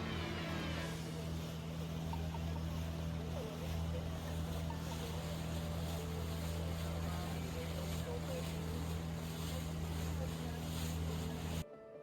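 A motorboat on the Narmada river chugs with a steady low engine drone throughout, water and wind noise mixed in, before cutting off abruptly at the very end.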